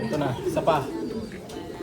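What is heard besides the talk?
pigeons cooing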